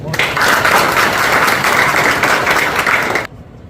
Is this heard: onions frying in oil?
no